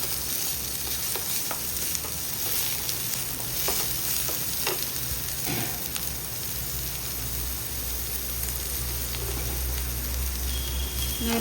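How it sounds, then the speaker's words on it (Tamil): Onions sautéing golden in hot ghee for chicken sukka, a dense, continuous sizzle heard up close with intermittent spatula scrapes and stirring taps. "வெங்காயம் நல்லா பொன்னேரமாக வதங்கிட்டோம்"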